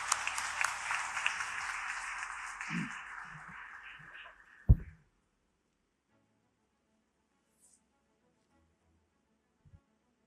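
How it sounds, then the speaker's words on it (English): A hall audience at the JBIMS Alumni Meet 2025 applauds Ajay Piramal with loud, dense clapping for about five seconds, then it stops abruptly on a single thud, leaving near silence with a faint knock. "Let's give a thunderous round of applause for him."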